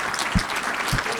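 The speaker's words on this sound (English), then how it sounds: "Let's give these folks a round of applause." Audience clapping at a public gathering, a brief loud burst of dense applause with a couple of low thumps, no talk.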